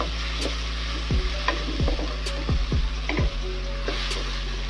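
Ground red curly chili paste frying and being stirred in a pan for a spicy tempeh filling for cassava croquettes: a steady sizzle with repeated scraping spatula strokes, close and alone.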